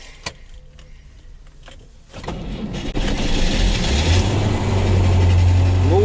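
A car engine cranks and catches after a quiet start with a few clicks, then settles into a steady, close idle with a low hum that grows fuller as it prepares to drive off.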